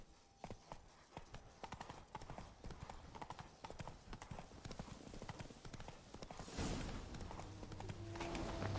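Roach the horse gallops in The Witcher 3, hooves clip-clopping in a quick, steady rhythm at close range, before a louder burst of game sound near the end.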